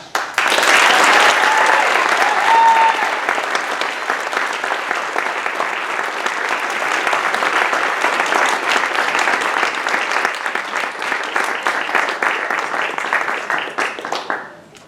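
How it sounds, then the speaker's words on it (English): Loud, sustained applause from a large graduation ceremony audience, dense clapping that holds steady for several seconds before tapering off at the end. "So let's give a round of applause for Mel"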